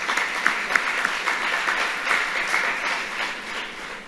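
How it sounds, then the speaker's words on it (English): Audience at a police department appreciation ceremony for caregivers of crime victims gives steady, moderately distant applause, a dense patter of clapping that holds evenly and begins to thin toward the end. "Will you please give them, not just the officers, but everyone else, a round of applause."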